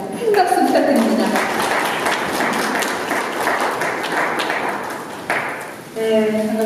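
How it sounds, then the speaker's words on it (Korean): Crowd applause at a volunteers' day ceremony in Eunpyeong, a dense sustained wash of many hands clapping, with a voice speaking over it at the start and again near the end. "큰 박수 부탁드립니다."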